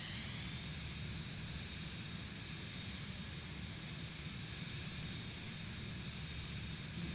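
Steady, unbroken roar of an aircraft engine run at full throttle for takeoff in a flight simulator game, a constant broadband rush with low rumble, moderately loud and unvarying throughout.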